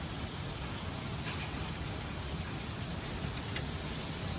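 Constant hiss of heavy precipitation pelting surfaces, with scattered sharper ticks of impacts throughout, fairly quiet and steady.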